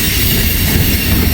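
A long freight train made up of gondolas and boxcars climbs a steep grade, producing a loud, close, continuous rumble and rattle of wheels and cars rolling past.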